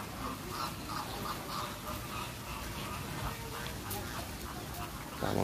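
Ducks quack repeatedly in a busy outdoor zoo setting, their calls rising out of steady background noise and distant murmuring.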